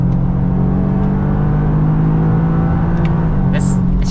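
A 2024 Toyota GR Yaris engine pulls hard under acceleration, a loud, close, steady drone from inside the cabin that dips briefly during a quick automatic gear change.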